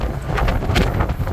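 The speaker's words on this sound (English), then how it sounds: "Super windy and cold out here." Strong, cold wind buffeting the microphone on a ferry deck headed to Seattle, a continuous loud rushing roar with gusty surges throughout.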